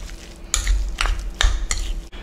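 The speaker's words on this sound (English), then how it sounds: "Let's give all this a nice mix." Spoon stirring sushi filling spiced with sriracha in a bowl, several quick scraping, clinking strokes up close with short pauses between them and no talking.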